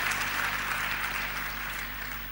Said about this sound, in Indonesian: Nah kalau berkat tepuk tangannya kencengnya luar biasa